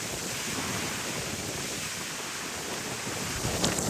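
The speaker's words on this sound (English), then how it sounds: "get bare windy out here" Gusty wind blows outdoors on a London street, a constant loud roar of wind noise across the microphone, steady throughout with a slight swell near the end.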